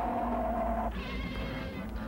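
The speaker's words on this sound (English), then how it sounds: "He sounds like a cat." A short, tonal cry from the giant turtle monster Gamera in the film Gamera vs. Guiron, much like a cat's meow, followed by a low rumbling background.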